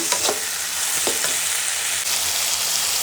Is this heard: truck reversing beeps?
no